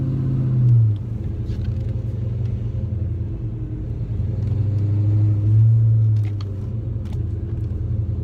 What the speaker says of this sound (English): It's the factory engine, 302 with the 5-speed